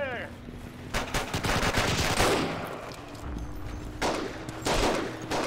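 Machine gun fire in the World War II shooter Forgotten Hope 2, heard as rapid bursts of loud, close shots with quieter distant gunfire between them and a brief voice at the start.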